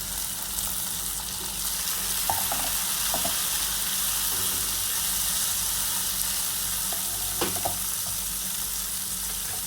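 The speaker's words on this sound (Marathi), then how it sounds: "कांदा आपला लालसर झाला की यामध्ये हे मी चिरलेले टोमॅटो ॲड करते।" Chopped tomatoes added to browned onion fry in a pan for bhindi bhaji, a steady close sizzle running throughout with a few light stirring clicks and scrapes.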